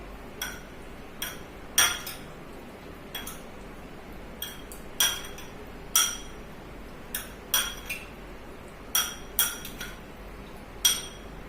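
Utensils clink and scrape against a bowl while Russian salad is mixed, a run of sharp metallic taps arriving irregularly, roughly once a second, over a soft steady background with no talking.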